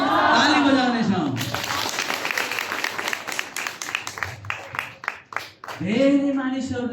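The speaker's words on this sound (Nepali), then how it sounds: "ताली बजाउनेछौँ।" A church congregation breaks into applause during a sermon, several seconds of brisk clapping that tapers into scattered claps, with a voice speaking before and after it.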